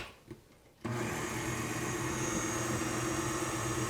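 An electric mixer on low speed churns peppermint mocha cupcake batter. It cuts in after a short quiet moment, then holds a steady, even whirring drone to the end.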